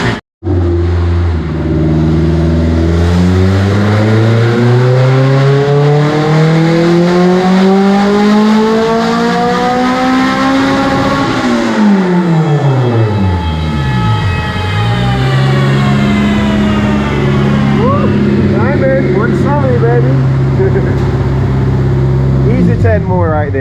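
A K-swapped Honda Acty kei truck, engine otherwise stock, revs hard on a dyno, pitch climbing for a long pull to a loud high scream, dropping, then rising again to hold a steady drone.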